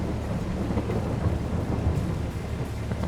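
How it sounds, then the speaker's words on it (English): Steady rain with a low rumble of thunder in the farming video game Farming Simulator 22, a continuous dense wash of rainfall without voices. "Oh, it's raining."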